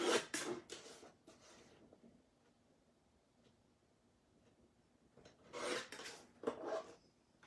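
A craft cutter slices through card with short scraping, rasping strokes, clustered at the start and again near the end with a quiet pause between, close and fairly faint.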